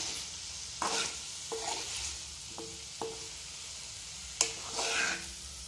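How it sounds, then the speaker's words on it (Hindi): Paneer filling being stirred in a pan with a spoon, giving several scraping, sizzling strokes at an uneven pace, close and moderately loud, with no talking. "अब ये मिक्स करेंगे।"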